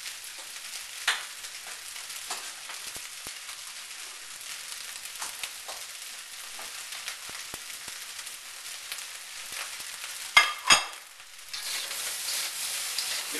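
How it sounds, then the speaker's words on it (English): Beef fried rice sizzles and crackles continuously as it is stir-fried in a wok, with scraping and tossing bursts near the end and no talking. "You don't want to overload the wok because then you'll have a hard time stir frying it."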